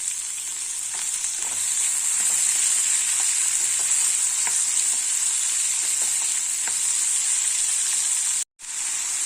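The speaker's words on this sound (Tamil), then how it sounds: "வெங்காயம் எல்லாத்தையுமே சேர்த்துடுறேன். தக்காளி இது எல்லாமே வதங்கட்டும்." Roughly chopped onions and tomatoes sauté in a hot pan with a steady, close sizzle. Faint stirring clicks and scrapes come through now and then, and the sizzle cuts out briefly near the end.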